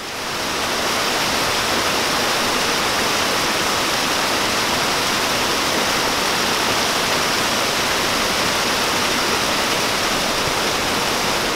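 Water pours at Cataract Falls in Marin County, a loud, unbroken roar of falling water and rushing creek heard close up, steady throughout with no voices.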